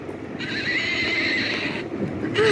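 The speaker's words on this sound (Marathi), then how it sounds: "हा आहे घोडा आहे हा" A soft toy horse plays a recorded neigh, one whinny held for more than a second with a second neigh starting at the end, close and fairly loud.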